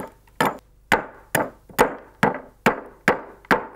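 A blade bites into green, fresh wood, knocking knots off a wooden stick in eight sharp, evenly spaced chops, each a crisp close thwack that fades quickly, with no talk over them.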